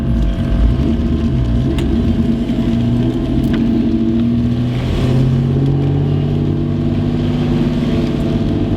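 Car cruising along a street after drilled and slotted brake rotors were fitted: steady engine and road rumble fills the interior, loud and continuous, with a faint mechanical clicking and slight rise in engine note midway.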